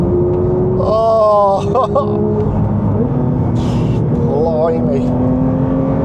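A Porsche GT3 accelerating hard, its engine climbing through rising revs with sharp gear changes and a loud, close roar. A man exclaims over it.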